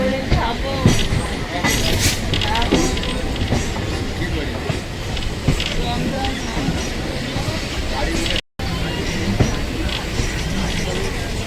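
A passenger train runs at speed with a continuous rumbling roar and clattering wheels, loud and close, broken only by a brief dropout near the end.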